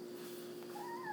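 A cat meows once, a rising then falling tonal call near the end over a steady background hum, fairly faint with no talk.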